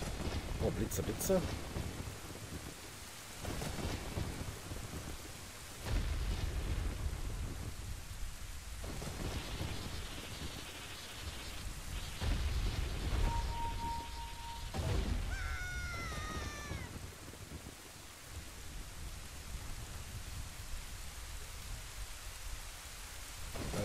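A thunderstorm in The Legend of Zelda: Ocarina of Time: steady rain hisses throughout while heavy rolls and cracks of thunder strike repeatedly, with some brief tonal game sounds partway through.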